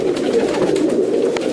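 Rampuri and Sialkoti pigeons coo in a low, continuous throaty murmur, close and steady throughout the brief moment.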